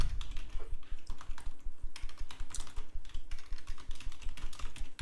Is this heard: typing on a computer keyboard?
yes